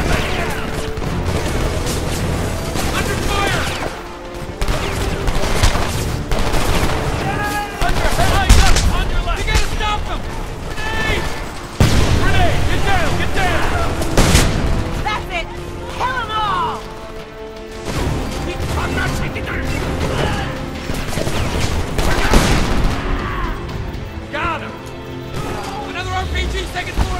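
Battle gunfire in the video game Homefront, with dense bursts of rifle and machine-gun fire, booms and crashes layered under shouted voices and music throughout.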